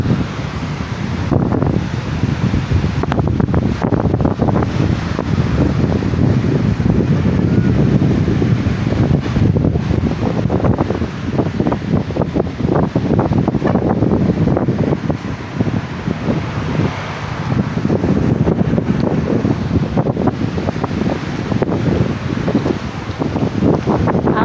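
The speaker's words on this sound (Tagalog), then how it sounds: "Kaya makinig lang tayo sa mga alon na naman." Steady wind and ocean waves wash over a typhoon-battered shore after Typhoon Uwan, a continuous loud roar of surf and gusts with no voices.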